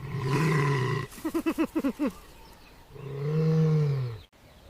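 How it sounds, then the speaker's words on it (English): A honey badger roars while fighting a wounded hyena: one long, loud, close roar, then a burst of rapid pulsed grunts, then another sustained roar. "Standing tall, Grit roars and unleashes a suffocating musk cloud"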